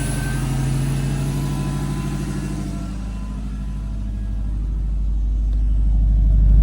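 A 2007 Subaru WRX idles steadily with a deep, low exhaust rumble, its engine note swelling slightly toward the end, with no talk over it.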